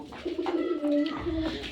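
Domestic pigeons coo softly at close range, a few low murmuring calls rising and falling over a quiet backdrop.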